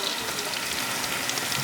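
Steady rain falls outside a home window, a constant broadband hiss with no pauses, fairly loud and unbroken throughout.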